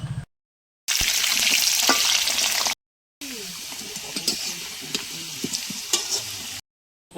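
Potatoes fry in a pan in a village home kitchen, a steady close sizzle broken by brief silences, with stirring scrapes and faint clatter underneath.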